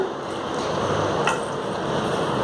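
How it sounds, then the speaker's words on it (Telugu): A spoon slowly stirs rice bran (rice rava) pulihora, giving a soft, steady scraping and grainy rustle that stays close and even throughout, with no talking. "ఫస్ట్ స్లోగా ఇట్లా స్పూన్తో మిక్స్ చేసుకుందామండి జాగ్రత్తగా"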